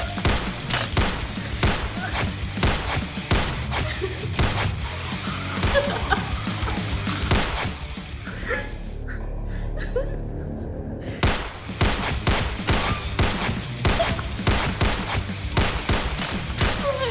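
Rapid, heavy gunfire in a zombie video game bursts in dense volleys, loud and close, pausing briefly midway before another barrage resumes.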